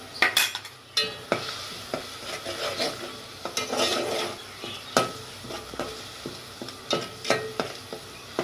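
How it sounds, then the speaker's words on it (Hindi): Ginger garlic paste sautéing in a pan for matar pulao, a low sizzle punctuated by frequent sharp spoon taps and scrapes against the metal at an uneven rhythm, close up with no talking. "अदरक और लहसुन का पेस्ट अब हम इसमें शामिल करने जा रहे हैं।"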